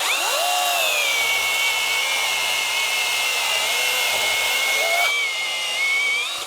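Grosser GCS 820 cordless saw cutting wood, a loud, steady high-pitched motor whine under load that dips briefly near the end, then spins back up before stopping.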